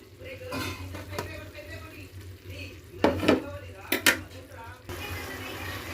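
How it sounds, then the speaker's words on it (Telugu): Tomatoes are added to a cooking pan of ivy gourd curry and stirred, with soft sizzling, scraping and a few sharp clinks of a utensil against the pan, fairly quiet and close. "ఇప్పుడు టమాటో వేసేద్దాం"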